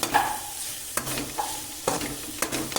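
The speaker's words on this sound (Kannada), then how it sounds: "ಇದು ಮೂಲಂಗಿ ಸೊಪ್ಪು ಫ್ರೆಂಡ್ಸ್ ಫ್ರೈ ಮಾಡ್ಕೊತಿದ್ದೀನಿ" Radish greens fry in a pan with a steady broadband sizzle, broken by a few sharp stirring scrapes at regular intervals; no voices.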